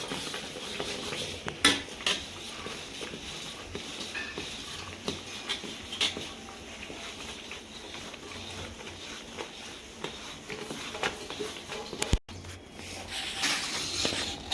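Mawa is stirred into thick sugar syrup in a pan while making mawa pedas: a continuous close scraping and rasping of a spoon against the metal pan, with occasional sharper knocks.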